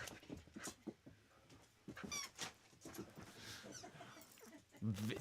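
Faint dog whimpers and small yips come through amid continuous talking and shuffling movement close by, the dog's cries rising briefly near the end.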